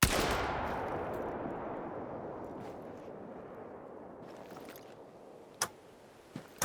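A single Strandberg 10SA shotgun shot in theHunter game, one loud blast at the start that rolls into a long fading echo over several seconds, then a couple of faint clicks near the end.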